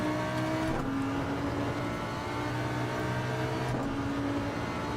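Race car engine in the video game Gran Turismo 7, a loud sustained roar accelerating with rising harmonic tones and two brief breaks that sound like gear shifts, continuous throughout with no talking.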